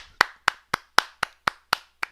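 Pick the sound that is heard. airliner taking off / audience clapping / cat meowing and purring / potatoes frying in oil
audience clapping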